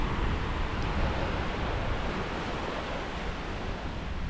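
Ocean surf at Cooee Beach, Tasmania, on a morning walk: a steady, broad wash of waves rolls in without pause, close and full, with some wind noise and no voices.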